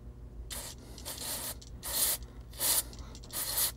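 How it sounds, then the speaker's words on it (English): Short hissing bursts of cleaner sprayed onto Pioneer CT-F1250 cassette deck parts over a waste can, about five close spritzes in an uneven rhythm with no talking. "I'm just going to spray this off into the waste can, into some paper towels"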